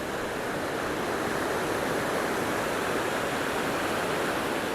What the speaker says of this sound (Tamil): இப்போ கீழே காட்டுக்குள்ளேருந்து தண்ணி போகுது.